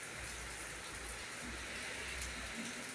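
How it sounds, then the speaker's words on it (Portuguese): Wind-driven rain falls steadily on a rooftop vegetable garden with tomato plants, a dense, even hiss that stays constant throughout with no voices. "Uma chuva de vento hoje"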